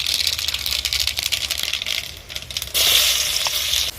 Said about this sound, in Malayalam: കടുകിട്ട് പൊട്ടി, അതേപോലെ ചുമന്നുള്ളി ഇട്ടു